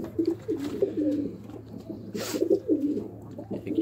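Firozpuri male pigeon cooing close by, a series of soft, throaty rolling coos repeating in short bursts over a low steady hum.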